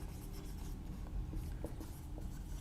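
Marker or chalk writing on a board during a physics lesson on prisms, a soft continuous scratchy rubbing with short strokes, close and steady for a few seconds.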